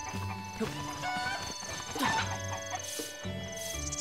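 Chickens clucking in the video game Zelda: Breath of the Wild, with fowl calls and clucks over steady game music and ambient sound, fairly loud and continuous.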